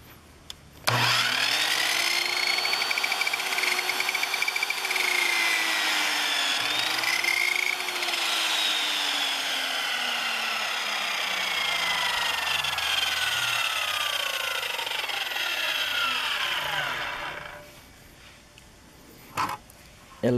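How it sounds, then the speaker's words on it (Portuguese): An Einhell BT-SM 2534 miter saw cuts wood with a loud, sustained whine that holds steady for about seventeen seconds, its pitch sliding as the blade loads and then spins down, followed by near silence and a brief knock. "E voltando aqui na serra de meia esquadria."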